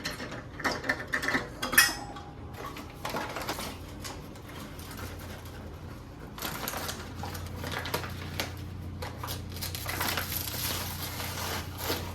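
Butter being mixed in a large bowl for banana bread: uneven clacking and scraping strokes, with a few sharper knocks early on. A low steady hum joins partway through.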